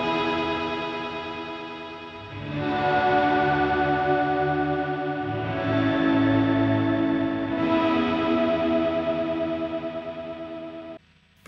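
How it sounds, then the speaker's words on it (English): Wet-only reverb from a Sonicake Matribox multi-effects pedal, a lush washed-out guitar tone with swelling chords and shimmering modulation, sustained and loud, ending in an abrupt cutoff with no voices. "Let's take the dry signal completely out so you can just hear the reverb."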